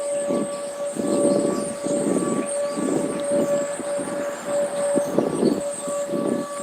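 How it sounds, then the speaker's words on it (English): A steady tornado warning siren wails continuously in the distance, a sustained tone over a rumbling, pulsing background. "That's our tornado whistle."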